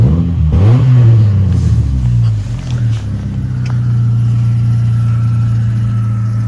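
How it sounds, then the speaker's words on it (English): A 1994 Saturn SL2 Twin Cam's exhaust rises in a loud, close rev that swells and falls back over a couple of seconds, then settles into a steady idle drone. "You can hear the exhaust there."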